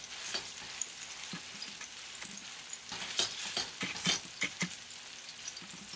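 A homemade burger patty frying over a slow flame, a soft steady crackling sizzle with scattered pops and a few light scraping taps, fairly quiet and close, no voices.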